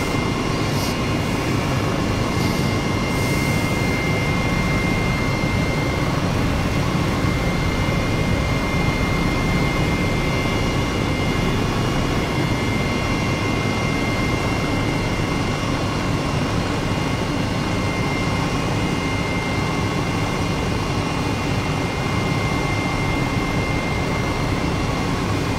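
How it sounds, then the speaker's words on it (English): Steady drone of WW2-era aircraft engines on landing approach over coastal cliffs, a continuous loud hum that holds through the whole stretch with no talk. "And just look at those landing approaches over the cliffs."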